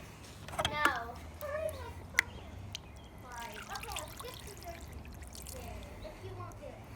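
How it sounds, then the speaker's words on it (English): Water is poured out for a pastrami brine, a faint, soft trickle with a few small splashes and drips, while a person talks quietly nearby. "pour a little water out"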